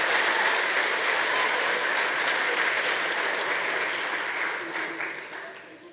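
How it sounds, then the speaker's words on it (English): An audience at a university honors medallion ceremony applauds the faculty, a dense, steady clapping that holds for several seconds before gradually tapering off toward the end. "let's give all of our faculty a round of applause"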